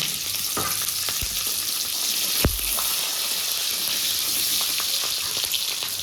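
Dried red chillies and slit green chillies fry in hot oil with a loud, even hiss and crackle, plus a few sharp pops and a knock partway through.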